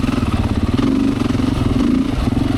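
A Beta 500 four-stroke motorcycle lugs in third gear at very low RPM, almost stopped, its loud, close engine thumping in a steady, uneven chug with a rough mechanical clatter throughout.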